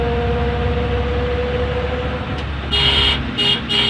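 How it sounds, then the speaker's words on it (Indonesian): An angkot, a small Indonesian minibus, races past amid steady road noise in an animated street scene, with a couple of sharp bright horn honks sounding near the end. "Waduh, angkot ngebut, bahaya, harus cepet."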